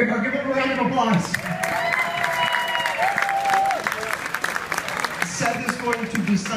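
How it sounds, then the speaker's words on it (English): Audience applause and cheering in a cruise ship venue, loud and sustained for several seconds while a voice talks over the clapping. "Here we go, give him a round of applause."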